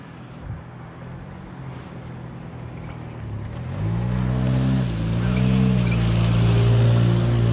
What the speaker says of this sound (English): A mail truck is coming, dude.